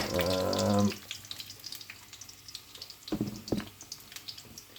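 Sausages browning in a pan give a faint, patchy sizzle with small pops and crackles, close by, after a brief louder clatter at the start, with no voices.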